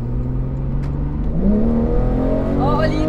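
A Porsche GT3 sports car accelerates hard, its engine note climbing steadily in pitch as the revs build, heard close from inside the car.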